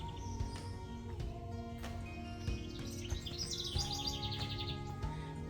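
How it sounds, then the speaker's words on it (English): Many birds chirping and singing outdoors on a morning, overlapping tweets and trills in quick bursts, faint and somewhat distant against a quiet background. "I have a ton of birds"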